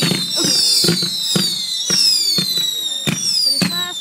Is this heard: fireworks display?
yes